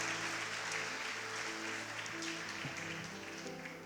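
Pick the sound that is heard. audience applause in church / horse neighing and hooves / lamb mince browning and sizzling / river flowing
audience applause in church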